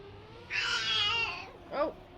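A cat lets out a drawn-out, wavering meow that is fairly close and clear, then gives a second, shorter meow about a second later, with nobody talking.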